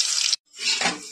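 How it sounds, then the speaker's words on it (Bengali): Batter-dipped pui shak (Malabar spinach) leaf pakoras drop into hot oil with a loud, bright hiss that cuts out briefly, then swells into a second sizzling burst. "পকোড়ার জন্য ছেড়ে দিলাম তেলে।"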